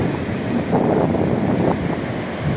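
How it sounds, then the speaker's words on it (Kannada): Ocean waves churn noisily against the Karwar shore, a loud, continuous roar of surf that swells briefly in the middle, with wind rumbling across the microphone and no one speaking. "ನೆರೆ ನೀರಿನ ಗಲಾಟೆ ಅವಾಜ್ ನೋಡಿ ಹೇಗೆ"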